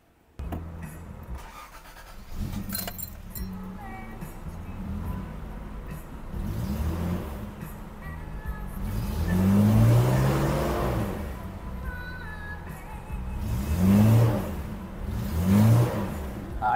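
An old carbureted car engine is started and revved by a mechanic, with cranking and rough idling building into several rising rev bursts near the end, loud and close, with some workshop clatter.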